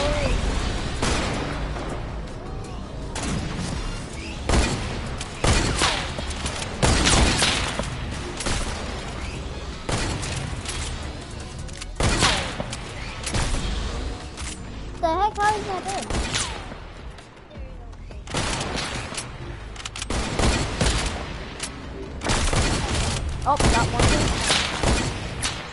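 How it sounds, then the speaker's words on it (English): Sniper rifle gunfire in a video game sniper battle, repeated loud sharp shots and booms scattered through a dense, busy game soundscape, with voices talking excitedly over the action. "Oh, it's a sniper battle."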